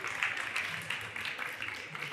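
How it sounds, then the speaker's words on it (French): Audience applause for a young volunteer at a French cooking demonstration, a steady patter of many hands clapping at moderate distance, faint and continuous. "Je pense qu'on peut l'applaudir."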